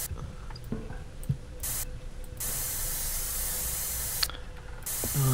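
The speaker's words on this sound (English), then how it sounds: "I want my spray can. Where's my spray can?" A spray can hissing in the horror video game Erie, several bursts of broad, airy spraying, some brief and some sustained, fairly loud against a quiet background.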